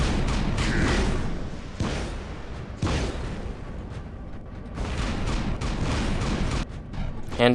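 The Shredder light weapon in War Robots fires in dense, sustained bursts of booming gunfire with short gaps between volleys. The shots are loud and close, and someone talks over the firing.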